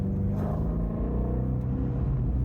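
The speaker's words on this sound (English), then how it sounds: "one of the best sounding cars I've ever heard in my life" A flat-plane V8 car engine rumbles steadily close by, a deep throaty drone with a slight rise in pitch, no voices over it.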